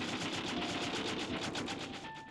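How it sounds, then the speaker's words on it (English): Rapid video-game machine-gun fire from MK-48 cannons, a dense unbroken volley of shots lasting the whole stretch, loud and close with no talk over it. "They each fire a volley of bullets from their MK-48 cannons."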